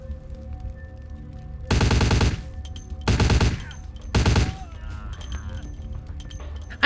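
Three short bursts of rapid automatic gunfire from a gun in the video game Vampire the Masquerade Bloodlines, loud and close, separated by quiet gaps with faint game ambience.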